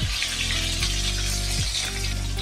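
Rohu fish sizzles and crackles steadily in hot oil in a pan, a loud, close, continuous fry with brief low thumps as the pieces are turned.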